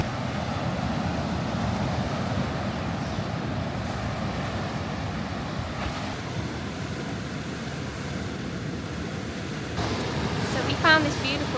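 Surf rolls steadily onto Coconut Beach near Weligama, Sri Lanka, a continuous broadband wash of waves with some wind rumble, fairly close and even in level, with no voices.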